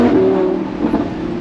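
A Lamborghini Huracan Spyder accelerating in Corsa mode, its engine note loud and close, rising in pitch before a brief gear-shift dip and continued rev for just over a second.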